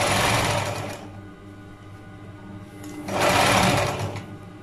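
A sewing machine stitching a fabric span onto a garment shoulder, a steady close whirring hum that eases off in the middle and then speeds up again.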